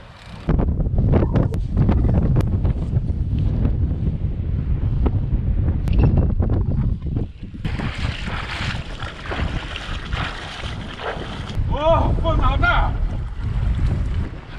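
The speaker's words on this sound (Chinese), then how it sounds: "你看现在风，今天九级大风，人都上不住" Force-nine gale blowing hard across a seashore at low tide, a loud continuous roar and buffeting rush of wind with gusting surges, strongly battering the microphone throughout.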